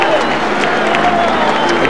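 A big crowd at a packed rugby stadium for a 1990 Western Province versus Orange Free State match gives off a steady, dense roar of murmur and distant cheering, with commentary spoken over the top.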